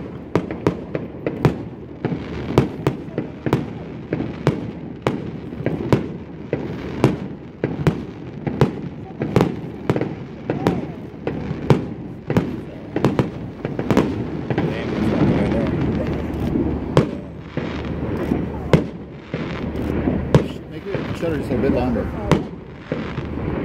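Fireworks burst over Budapest as seen from the Chain Bridge, a steady run of sharp cracks and booms with a rolling crowd murmur and wind underneath, and people talking nearby throughout.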